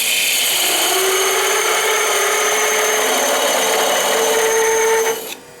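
A power tool cutting wood to shape a honey dipper, a loud steady whine held for about five seconds before it cuts off abruptly.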